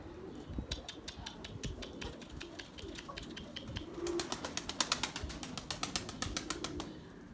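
Erzurum white breeding pigeons in a loft, giving soft repeated coos among sharp clicking and fluttering sounds, close by and moderately loud, with no talk over them.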